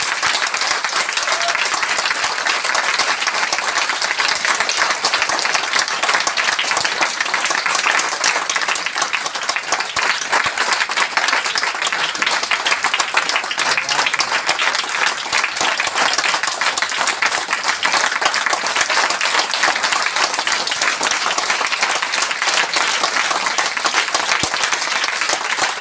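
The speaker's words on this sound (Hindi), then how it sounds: "बहुत जोरदार ताली बजाइए इस great personality के लिए।" An audience applauds loudly and steadily for a respected personality at a Hindi-language talk, a dense, unbroken wash of many hands clapping, close and sustained throughout with no talk.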